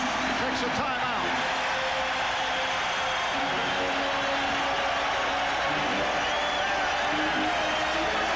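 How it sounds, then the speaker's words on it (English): A capacity crowd at Madison Square Garden roars during a Knicks–Bulls playoff game, a dense, loud, sustained wall of cheering that stays constant throughout. "This capacity crowd reacting to the Knicks moving within 2."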